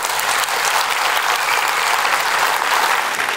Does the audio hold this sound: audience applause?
yes